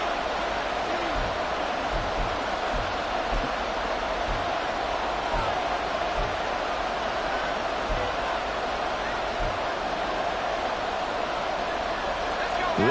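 A football stadium crowd at a Jets versus Dolphins game, a dense, steady roar of massed voices filling the air without letting up, loud and far-spread, with an announcer talking over it.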